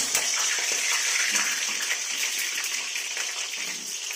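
Slices of pointed gourd (potol) slide into hot oil in a kadai and fry with a steady, dense hiss and crackle that stays close and fairly loud throughout, with no one talking.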